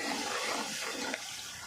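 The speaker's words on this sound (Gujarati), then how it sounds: "હવે નાખી દઉં પાણી" Water pours into a cooking pot of spiced Maggi noodles in a home kitchen, a short steady gush that rushes loudly, then eases slightly at the end.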